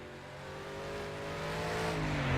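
A race car engine at the Targa Sicilia road rally revs up steadily and loudly, its throttle rising through the whole short stretch with no talk over it.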